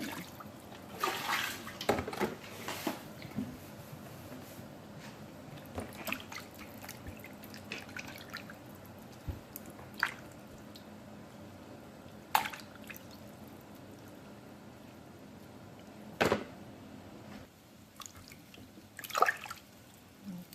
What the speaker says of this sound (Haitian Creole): On met un petit de l'eau froide là.